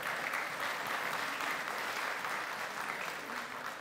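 Dense, steady applause from an audience at a church gathering, close and sustained for the whole stretch with no voices standing out.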